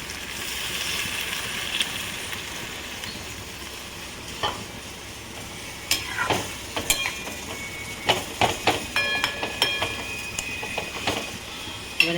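Kankrol masala crackles and sizzles in a pan after a little water goes in, with intermittent scraping stir strokes and sharp pops growing busier toward the end.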